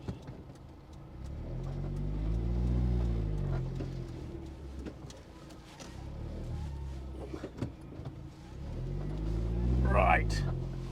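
Turbocharged Vauxhall VX220 Turbo engine revving loudly through the gears, rising and falling in pitch across several rev sweeps, close and prominent with no talk.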